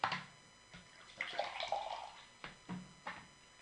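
Water is poured and sipped during a business workshop: a few soft splashes and drips, then brief separate gulps or clinks, quiet and close, with no talking.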